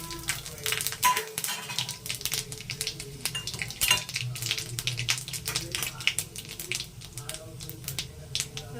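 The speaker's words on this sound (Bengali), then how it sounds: "এবার দিয়ে দেব 5 ফোড়ন, গোটা শুকনো লঙ্কা আর তেজপাতা।" Panch phoron spices, whole dried red chillies and bay leaves hitting hot oil, a busy crackling sizzle with spoon and pan clatter close by, steady and sharp throughout.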